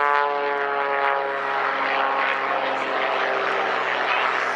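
An XtremeAir XA41 aerobatic propeller plane flies a flat turn at an airshow, its engine a loud, steady, harmonic drone that holds close and constant throughout.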